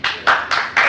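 Four distinct hand claps ring out in quick, even succession at a city council meeting, close and crisp with nothing else around them.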